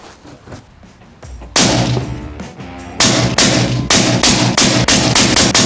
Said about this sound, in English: the same rifle with a Thunder Beast Ultra 7. We're gonna shoot 10 rounds suppressed